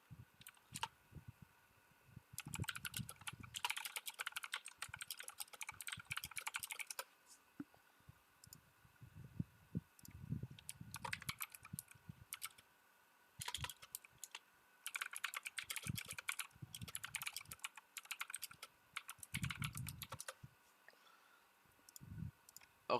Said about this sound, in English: I was typing on Discord.